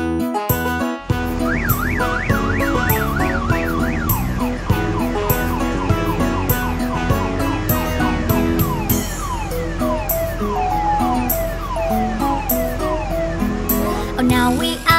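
A wailing police car siren sweeps up and down in quick cycles over bouncy, continuous children's nursery rhyme music, repeating throughout at a steady volume.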